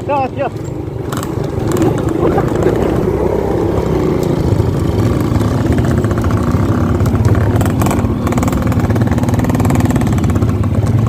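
A motorcycle engine runs steadily and loudly throughout, a continuous mid-pitched drone with slight rev fluctuations, while people talk over it near a mountain cave in Pemalang, Central Java.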